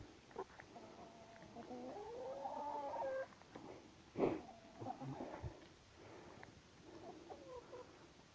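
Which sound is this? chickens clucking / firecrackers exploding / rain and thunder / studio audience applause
chickens clucking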